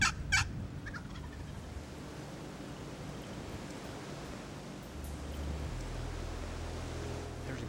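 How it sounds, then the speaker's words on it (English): A wild turkey gobbler calls from a hill, one loud rattling gobble at the start, then faint bursts later over steady wind-like rumble outdoors. "There's a gobbler right there on the hill."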